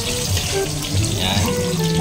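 Ginger sautéing in a hot pan for Filipino pork offal kilawin, giving a steady, close, hissing sizzle with no breaks.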